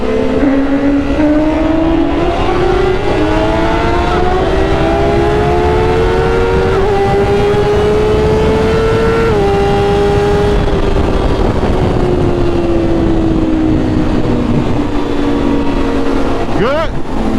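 A sport motorcycle at high speed, a 2021 Kawasaki ZX10 or BMW S1000RR, loud and close with a sustained engine whine that rises and falls through gear changes over heavy wind roar, with voices talking over it.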